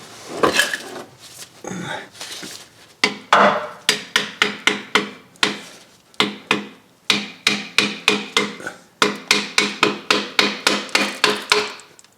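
A transmission pan on a 2000 Ford Focus being pried loose, its silicone seal giving way in a rapid series of sharp knocking and scraping cracks, close up, with a few quieter rubbing sounds early on.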